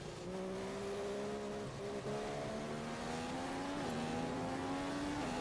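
A race car in a racing video game at a Malaysian circuit brakes late into a hairpin, its engine a loud, steady buzzing drone whose pitch dips slightly and then climbs again as it powers out, with faint tire scrub beneath.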